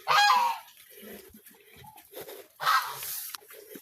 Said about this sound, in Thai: มีเป็ดมีห่านเด้อ